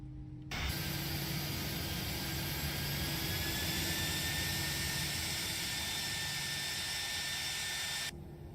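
An Airbus A319's number 2 engine spinning up in a flight simulator: a steady jet whine with rising tones over a broad roar, beginning abruptly and cutting off near the end.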